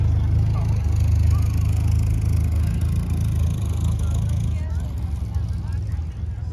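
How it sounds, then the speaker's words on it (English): A classic Frog Eye Sprite sports car passes at an outdoor classic car meet, its low engine hum steady at moderate distance and fading out toward the end, with crowd murmur in the background. "Little Frog Eye Sprite going past."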